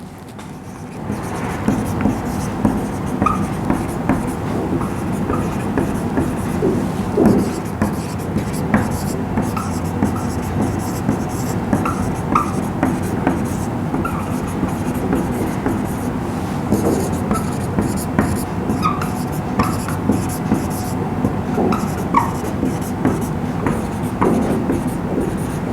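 Pen or chalk writing out a genetics cross, steady scratchy strokes running continuously over a noisy room background with faint murmuring.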